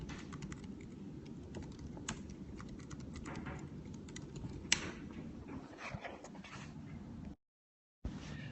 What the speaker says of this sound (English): I was typing it for you guys.